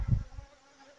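Bees buzz softly with a brief louder low hum at the start, then a thin steady drone.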